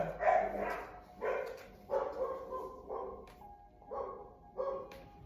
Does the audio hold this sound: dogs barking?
yes